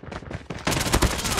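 Rapid gunfire in Call of Duty: Mobile, a dense burst of loud close shots that thickens into continuous fire after a brief opening volley.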